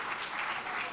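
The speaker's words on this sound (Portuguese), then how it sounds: "salva de palmas para a Jéssica." At a tech conference talk, an audience claps steadily for the speaker. The dense, even applause of many hands fills the whole moment at a fairly soft level, with no voices over it.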